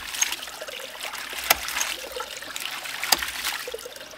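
Water trickles and gurgles steadily through a ram pump's piping as a valve is opened, a close continuous splashing flow with a few sharp clicks.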